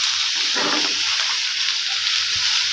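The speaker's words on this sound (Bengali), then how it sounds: "এর মধ্যে আমি দিয়ে দেব করলা আর আলু যেগুলো ধুয়ে রেখেছিলাম" Bitter gourd and potatoes tipped into a pan of onions and green chillies frying in oil: a steady sizzling hiss, swelling briefly as the vegetables land, then settling back into an even crackle.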